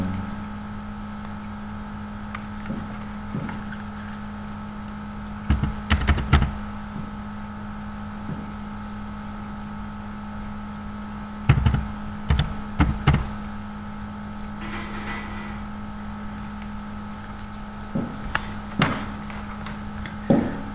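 A computer keyboard is tapped to enter a code while setting up an online account, with scattered short clusters of quick clicks over a faint steady hum, close but fairly quiet.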